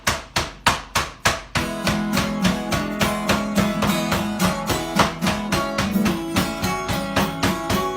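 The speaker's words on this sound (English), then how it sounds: "Oh, you hammer anything, some pork, some steak." Meat being pounded with a hammer to tenderize it for hamburger steak, a run of sharp, evenly spaced thuds, first a few slower blows and then a rapid steady rhythm over a continuous background of music.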